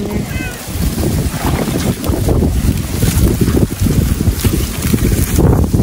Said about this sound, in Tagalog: Grabe, mahangin.